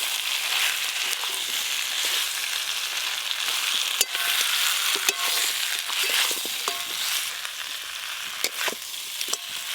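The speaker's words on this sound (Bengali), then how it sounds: "এবার ভেজে রাখা আলু পটলগুলো দিয়ে আরেকটু ভালো করে কষিয়ে নেব।" Fried potatoes, pointed gourd and fish head being stir-fried together in spiced oil in a pan: a continuous close sizzle with scattered sharp clicks and scrapes from stirring.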